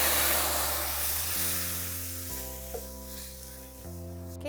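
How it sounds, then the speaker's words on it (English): Bean sauce hitting hot oil in a frying pan, a loud hiss that fades into a softer sizzle, with a steady tonal hum stepping in pitch underneath. "once oil is hot, we're going to add our bean sauce."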